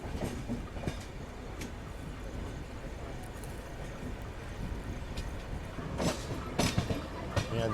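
ALCO diesel locomotive shunting in a railway yard at Bhusaval station, heard as a steady engine and rail rumble with intermittent clanks and bursts under faint nearby voices.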